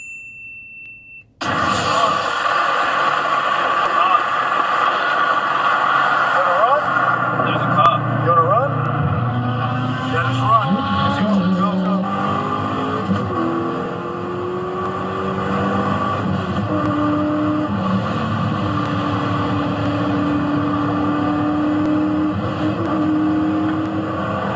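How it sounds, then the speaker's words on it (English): A Corvette fleeing police after a street race, its engine roaring loud and sustained after a sudden start, with rising and falling revs throughout, under speech. "Here's a Corvette that runs from the cops after a street race."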